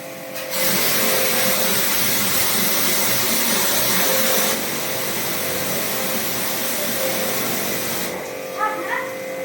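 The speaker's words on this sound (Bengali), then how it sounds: "দেখুন আমাদের সমস্ত জেট ক্লিন, জেট পাম্প দিয়ে সার্ভিস।" A jet pump sprays water at close range while a Godrej air conditioner is serviced, a loud, steady hissing roar that starts abruptly, holds for several seconds, then cuts off, leaving faint background noise.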